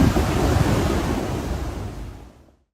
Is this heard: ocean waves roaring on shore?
yes